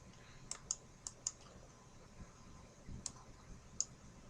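Sparse, quiet keystrokes on a computer keyboard, a handful of separate clicks in small irregular bursts with pauses between them, heard faintly against a soft room hiss and no talk.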